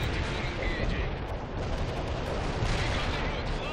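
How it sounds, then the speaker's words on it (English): Artillery fire in a real-time strategy war game, a dense rumbling barrage of overlapping blasts and gunfire rolling on without pause, loud and close, with faint speech mixed underneath. "artillery fire on all my positions"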